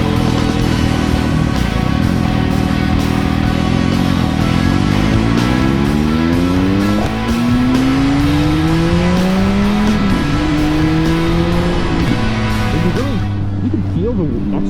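A Triumph Speed Triple 1050 motorcycle being ridden, its three-cylinder engine droning loud and steady as revs climb and drop through several gear changes, with a rider's voice heard over it.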